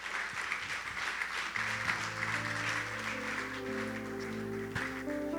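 A church congregation applauds during a service, the clapping steady and fairly faint throughout while sustained keyboard or organ chords play underneath.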